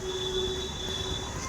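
A local train runs at Thane station in Mumbai, steady rumbling rolling noise with high, sustained wheel squeals on top, close and continuous.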